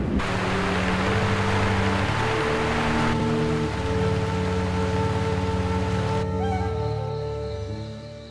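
Steady, dense rain falls in the Sumatran rainforest, a continuous loud hiss of drops on leaves and surfaces that holds unbroken throughout, with no voices.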